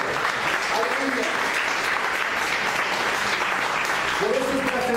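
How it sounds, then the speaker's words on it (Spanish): A church congregation gives a sustained round of dense, steady applause that fills the room for the full stretch, with voices faintly mixed into the clapping. "Dale una ofrenda de palmas a Él."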